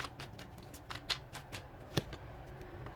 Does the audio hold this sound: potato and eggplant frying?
no